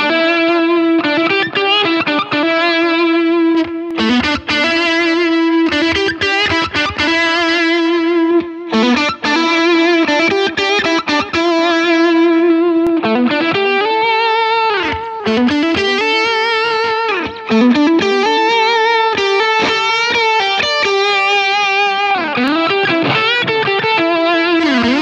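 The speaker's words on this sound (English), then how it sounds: "very usable tones, all of them, but very different tones, all with the same settings on the overdrive pedal" Electric guitar driven through a Valve Driver overdrive model on a Line 6 Helix, playing loud, sustained distorted chords and riffs with short gaps between phrases, alone without talk.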